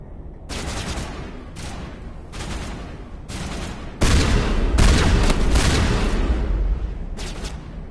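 Gunfire from a PS4 game with snipers in a cavern ruin arrives in repeated sharp bursts, then a louder, denser volley near the middle that keeps up before easing off.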